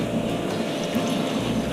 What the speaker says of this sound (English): And then I fill it to the max line in your Instant Pot.